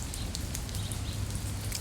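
Steady rain falls outdoors on a rainy day in a natural setting, a dense even patter with scattered nearby drops ticking on surfaces. No voices are heard.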